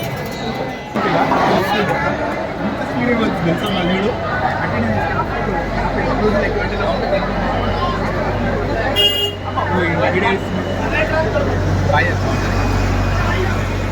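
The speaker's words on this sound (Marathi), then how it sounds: "प्रचंड गर्दी सिकंदराबाद रेल्वे स्टेशनवर आपण पाहत" Dense crowd of passengers at Secunderabad railway station, a continuous murmur of many voices with occasional horn toots and a low rumble of traffic or trains, one voice speaking prominently over the babble.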